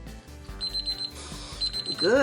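A kitchen timer alarm beeps in short repeated bursts while resin is being mixed, moderately loud and near, with talking and stirring sounds around it.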